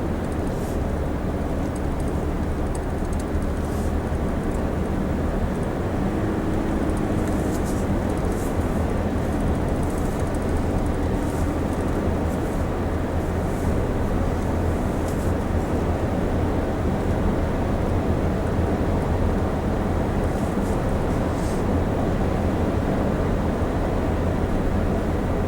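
A 2015 Toyota 4Runner Limited drives at speed, a steady broadband engine and road drone with wind rush, continuous and even in level, with no talking.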